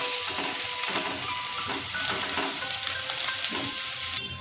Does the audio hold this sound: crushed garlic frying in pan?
yes